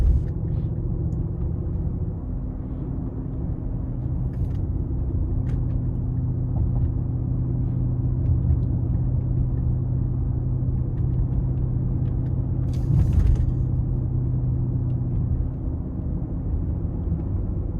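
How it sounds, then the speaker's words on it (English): Engine of a 2019 Mercedes-AMG GLE 63 S Coupe driving in sport mode, a steady low rumbling drone heard from inside the cabin, fairly quiet and even throughout with a slight swell near the end. "as you can kind of hear when I let off the throttle, it's relatively quiet. And this is, again, in the sport mode."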